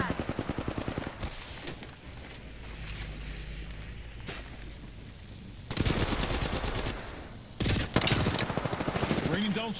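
Rapid automatic gunfire in Apex Legends, with bursts of shots starting and stopping across the stretch, the loudest clusters near the end, heard alongside game sounds.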